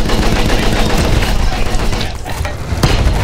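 Dense gunfire in the Battlefield 1 video game, with loud continuous machine-gun bursts and blasts filling the scene.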